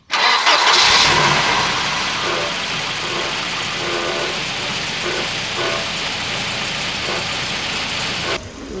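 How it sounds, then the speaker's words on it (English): A Volvo 240, long abandoned in the woods and freshly fueled, cranks briefly and fires up, then settles into a loud, steady idle close by. "we cranked on this sucker, and it fired up"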